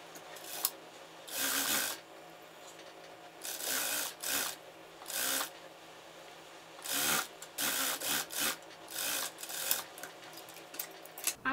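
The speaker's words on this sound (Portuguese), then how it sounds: "vou passar uma costura aqui com a distância de meio calcador" A sewing machine stitching a waistband seam on a top, in repeated short bursts of rapid mechanical running separated by pauses and small clicks, close and clear, with no talking.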